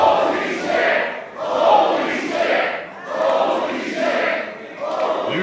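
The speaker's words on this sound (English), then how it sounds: "You hear the crowd" A wrestling crowd in the Sanctuary Event Center roars after a gut-wrench suplex onto the hardwood floor. The loud, dense cheering rises and falls in several rhythmic swells, almost chant-like, with no clear speech.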